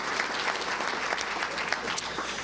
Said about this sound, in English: let's give a round of applause for all their hard work to do that